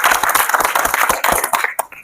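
Clapping for Bollywood actress Alia Bhatt, a steady run of claps from a small group, close and fairly loud, tapering off near the end.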